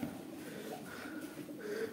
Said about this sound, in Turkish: Güvercinleri biraz önce gösterdim de yine de göstereyim şöyle.